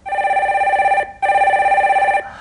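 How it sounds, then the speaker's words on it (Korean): A telephone rings for an incoming call on a radio call-in show, two long electronic trills separated by a short pause, loud and close with no talk. "첫 번째 전화 연결 해주세요."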